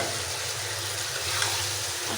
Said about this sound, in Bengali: আজকের মুরগি ভাজা আবার একটু বেশি হয়েছে মনে হয়